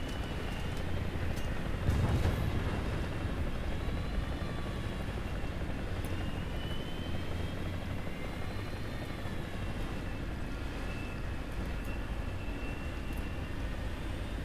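Helicopter in the War Thunder combat game, a steady droning rotor and engine roar hanging overhead throughout, constant and moderately loud with no talk.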